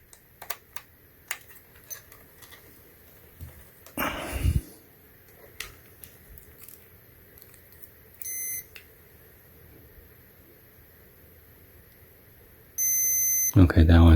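Multimeter beeping during a continuity check on the logic board of an Apple MacBook Air A1369, with short electronic beeps and one longer tone, amid faint tapping and handling clicks and quiet background.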